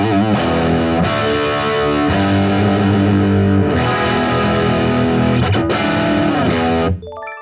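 An electric guitar plays through a Positive Grid Spark 40 amp with reverb, delay and modulation turned off. Loud, thick distorted chords ring out in sustained strums, with a few sharp changes before a final chord cuts off near the end.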